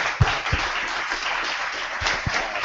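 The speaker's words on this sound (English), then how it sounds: "let's have a quick round of applause for Anna and the panel." Scattered clapping from an audience at a tech meetup panel, a few sharp claps over a steady wash of applause.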